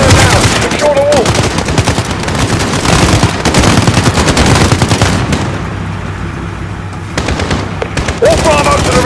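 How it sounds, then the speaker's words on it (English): Dense automatic and single-shot gunfire from a Call of Duty Modern Warfare firefight at a residence compound on PS5, loud and nearly continuous, easing briefly midway, with radio-style voices talking over it. "We're taking fire from the residence."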